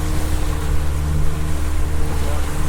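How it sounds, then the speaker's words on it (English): Heavy wind roar and rough sea swell around a fishing boat out for deep redfish, with a loud, continuous rumble of engine, wind and waves close to the microphone. "huge swell and wind"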